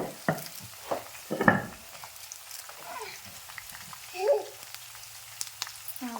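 Peanuts frying in a pan, with faint crackling and a few louder scrapes and stirring clatters, plus occasional soft voices in the background.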